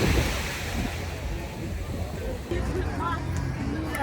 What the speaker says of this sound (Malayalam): ഭയങ്കര കടലിൻ്റെ ശബ്ദമൊക്കെ കേൾക്കാൻ പറ്റും.